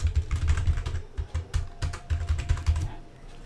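Typing on a computer keyboard, a fast, uneven run of close, distinct key taps that continues steadily before trailing off near the end, with no voices.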